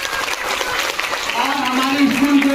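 An audience at a school annual day celebration bursts into clapping after a trophy is announced. The applause is loud and dense, and a voice speaks over it.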